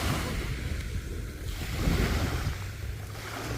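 Ocean waves rolling onto a beach as the tide rises, a broad continuous wash of surf with wind buffeting the microphone, swelling louder midway.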